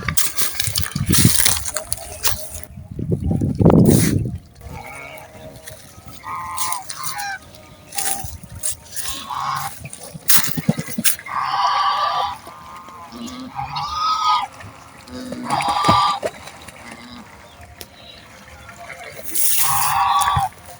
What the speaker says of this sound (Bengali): পানিতে রাজহাঁসের ডানা ঝাপটানোর শব্দ আমাকে মোহিত করছে।